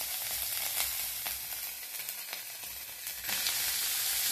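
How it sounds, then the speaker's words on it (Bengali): Ginger paste frying in hot oil in a kadhai while being stirred for a prawn masala, with a continuous close, loud sizzle and occasional scraping stir strokes. "এবার মাঝখানে তেল দিয়ে আমি আদা বাটাটা দিয়ে দেব। দিয়ে একটু আমি নাড়াচাড়া করে নেব।"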